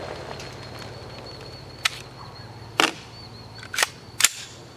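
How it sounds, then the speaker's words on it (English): Rifle shots of .223 full metal jacket ammunition fired downrange at an outdoor range: four sharp, separate cracks about a second apart, moderately loud over quiet background hiss. "Launch a couple rounds downrange."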